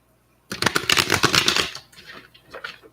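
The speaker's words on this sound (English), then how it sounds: "Let's shuffle." Tarot cards shuffled by hand, a loud close burst of rapid riffling followed by softer intermittent card slides and taps.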